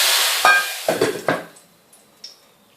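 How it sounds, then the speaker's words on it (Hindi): Hot tempering poured over masoor dal gives a loud, hissing sizzle with a few clinks and scrapes, fading over about a second and a half, leaving quiet with one more light clink. "ये देखिए मैं इसके ऊपर इसको तड़का लगा देती हूँ।"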